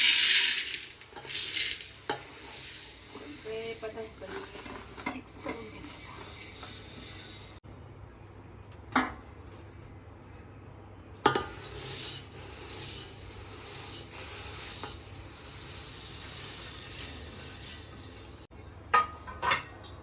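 Roasted grains such as bajra, jowar and wheat being stirred and mixed together in a metal vessel for bhajni flour, giving scattered scraping, rattling and clinking bursts with quiet gaps, close by and without speech.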